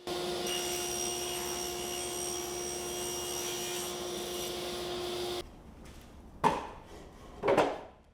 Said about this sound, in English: cut some maple plywood down to size for the cabinet body